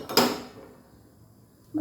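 A filled puttu maker set down on a pot of boiling water: one sharp metallic clank of cookware, a fading ring, then near silence and a second small clink at the very end.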